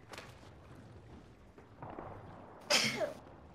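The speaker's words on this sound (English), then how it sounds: "I gotta sneeze." A single sharp, loud sneeze bursts out near the end, after quiet background chatter and game sounds during a competitive shooter match.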